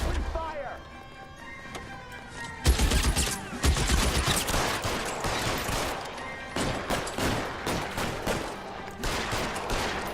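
Rapid bursts of gunfire crackle in L.A. Noire, loud and near, with dense volleys of shots. Voices speak between and over the shooting.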